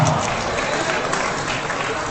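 Audience applause at the PSSI congress, a dense, steady wash of clapping from a large crowd, loud and continuous for about two seconds.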